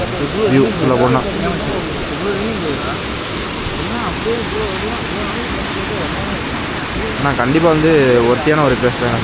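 Jog Falls in Karnataka roars as a constant broad rush of falling water from a distance, under someone talking throughout.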